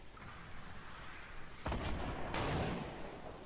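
Fortnite gunfire in a firefight: after quiet ambient game sound, a sharp close shot hits, then a second loud blast follows a moment later with a rumbling tail.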